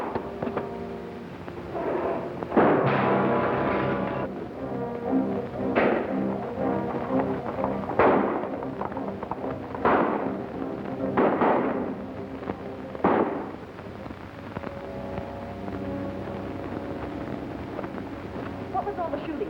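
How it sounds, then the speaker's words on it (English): Gunshots in an old western film crack in a series of sharp reports, some close together and others spaced out, over continuous orchestral music with no one speaking. "What was all the shooting?"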